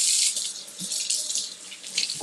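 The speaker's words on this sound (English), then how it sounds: "Okay, I'll wash my hands and then tell you guys what I did." Water runs steadily from a kitchen tap as hands are washed beneath it, a bright continuous hiss and splash with small shifts in flow, close by and with no talking.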